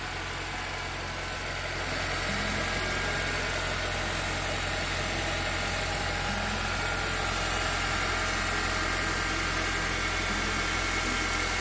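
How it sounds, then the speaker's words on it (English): A Honda Elysion minivan's 2.4 i-VTEC engine idles steadily and quietly, a constant low hum with faint vibration running throughout, no voices present. "you can have a look at the engine now. It is running and you probably can hear it."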